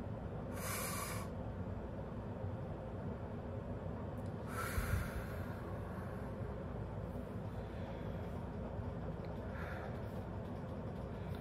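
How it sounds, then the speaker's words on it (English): A person breathes deeply and audibly, with a couple of clear airy inhales or exhales standing out against a steady low background hum. "Breathe in, breathe out."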